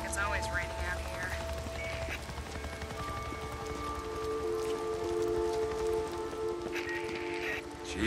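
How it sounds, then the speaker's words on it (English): Steady rain falls in the Days Gone video game, a continuous hiss that runs through the whole stretch beneath sustained tonal game sounds and some voices. "Seems like it's always raining out here."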